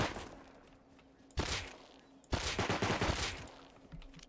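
Gunfire in the survival video game Rust: two sharp, loud bursts, a brief one then a longer rattling volley, standing out against quiet ambient background.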